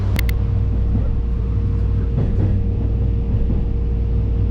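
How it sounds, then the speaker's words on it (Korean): A steady, close, low rumble inside a train running to Mojiko in Kitakyushu, Japan, continuing evenly throughout with faint clatter and no voices. "이 열차 타고 모지코로 갑니다."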